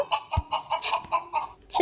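Hen clucking in an animated children's game, a rapid run of short, close clucks in a quick, even rhythm, with no talk over them.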